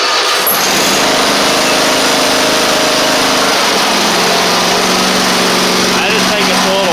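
Toro Z2550 zero-turn mower engine running steadily close by, a continuous small-engine drone with a slight shift partway through, while people talk over it.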